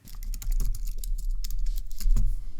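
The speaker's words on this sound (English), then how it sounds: "You can then simply type on your keyboard to write the text." Rapid typing on a computer keyboard, a close, steady run of crisp key clicks and taps with a few heavier strokes, no voices.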